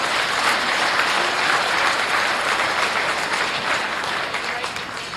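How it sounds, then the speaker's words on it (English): Applause for the staff at the 2020 Minnesota Youth Livestock Expo barrow show, a loud, dense, steady wash of clapping from a crowd that tapers slightly toward the end. "Let's give them a nice round of applause as well."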